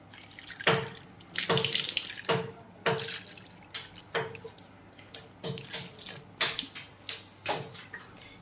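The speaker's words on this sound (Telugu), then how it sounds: "మోటార్ వేసాను నీళ్ళు పడుతున్నాను" Water from a motor pump runs into a container at home, splashing and dripping in irregular bursts, fairly faint, with no voices.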